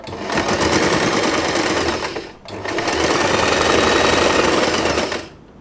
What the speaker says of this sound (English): I will start sewing from the seam here. And just sew the right sides together.